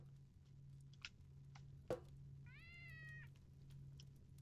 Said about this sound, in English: Cats meow when they jump, apparently.